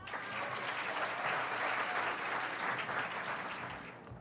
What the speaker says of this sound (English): can we give another round of applause to all of our honorees?